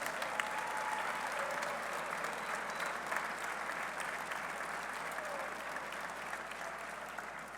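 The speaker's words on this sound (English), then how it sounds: "Please stand up and let us give you a round of applause." A room of attendees at a university press conference gives steady, sustained applause of moderate loudness, continuing evenly without a break.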